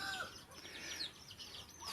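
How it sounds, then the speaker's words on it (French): Caged birds bred for competitions on a farm in Thailand chirp and call in quick, high bursts, fairly faint, with no talking. "on va aller voir ça avec ces oiseaux en cage"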